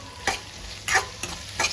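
Brinjals fry with salt in a pan, a bright steady sizzle marked by three distinct scraping stirs spaced evenly, close and fairly loud, with no voices.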